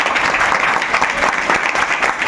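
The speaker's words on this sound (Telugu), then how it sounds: "ఆయనకు అందరూ మీరు ఒక్కసారి క్లాప్స్ కొట్టాలి." Dense, continuous clapping from a group of students at a government school, loud and close, sustained evenly throughout.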